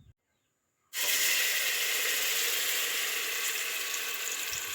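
Ground spice paste for pulao hits hot oil and erupts into a sudden loud sizzle, then keeps frying in a strong, steady hiss with no talk over it.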